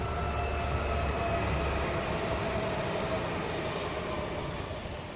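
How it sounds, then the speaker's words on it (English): A train rumbles steadily close by at Jonsered station, a broad continuous roar with faint high tones, easing off slightly toward the end as it stops. "I hear something behind me, a train."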